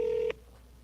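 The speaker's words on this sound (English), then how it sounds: "So I'm going to call that number right now." A single steady telephone dialing tone sounds for about a third of a second, then cuts off, leaving quiet line hiss as a survey phone number is called.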